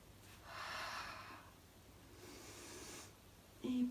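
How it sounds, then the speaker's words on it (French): Soft breaths during a Pilates spinal stability exercise: a drawn-in inhale followed by a longer, airy exhale, close and quiet, with a faint click at the end and no talking. "Je lève, inspire et je souffle."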